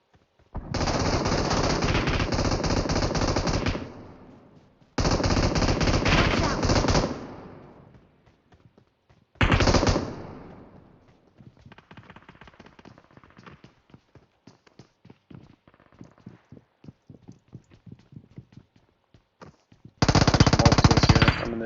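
Automatic weapon fire in the PUBG Mobile battle-royale game rips out in three long, loud bursts, then quieter scattered shots and footsteps, before one more heavy burst at the end.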